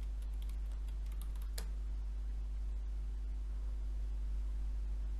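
Password keys being typed on a computer keyboard to reach the root account in Ubuntu Linux: a few faint, quick clicks early on over a steady electrical hum that continues alone.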